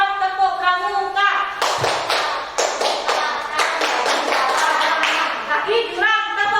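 An elementary school class performs the Indonesian scout clapping pattern (tepuk pramuka): a few seconds of rhythmic group claps in quick bursts, with a teacher's voice before and after.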